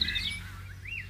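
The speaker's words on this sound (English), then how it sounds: "It's a blue bird." A bluebird gives a few short, high chirps close by, bright rising and falling tweets over a quiet background with no talking.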